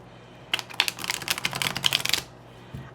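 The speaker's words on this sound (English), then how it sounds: "Let's just get a couple more shuffles in here." Rapid riffle of tarot cards being shuffled, a crisp burst of flicking clicks lasting about a second and a half, close and clear with quiet before and after.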